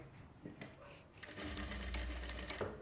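A sewing machine runs a short, close burst of fast stitching, sewing rope piping folded in a cross-cut strip with a quarter-inch guide. The whir starts softly and then holds steady and loud.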